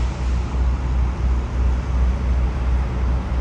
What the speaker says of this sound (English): I believe this is the Peterbilt dealership's tow truck. Sounds good too.